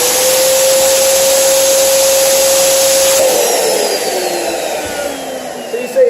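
Electric air pump inflating 16-inch items, a loud steady whine with a constant tone that suddenly drops in pitch and continues as the items fill, no talking.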